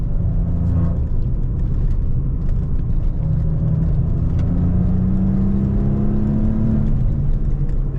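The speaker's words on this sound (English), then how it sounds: "it's accompanied by a soundtrack of that, again, that sport Maserati exhaust in the rear" Turbocharged engine and sport exhaust of a 2016 Maserati Ghibli S Q4 sedan with the baffles open, a steady loud rumbling drone heard from inside the car as the revs climb slowly, with no talking.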